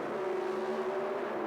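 Pro Stock drag cars at the 1977 NHRA World Finals in Ontario, California, a steady distant engine drone at fairly low volume, holding one pitch throughout the short stretch with no talking.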